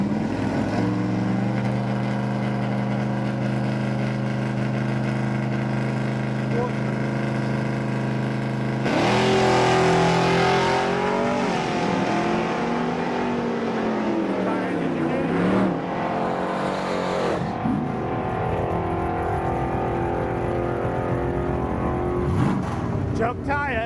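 Drag racing cars, including a 1974 Chevy Nova with a 406 engine, launch and accelerate down the strip, their engines droning and then surging in loud rising revs, with an announcer talking over the noise.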